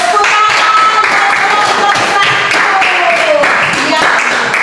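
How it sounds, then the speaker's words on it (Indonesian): A classroom group at a church activity claps after a presentation, brisk scattered handclaps spread across the moment with voices talking over them. "Iya, tepuk tangan."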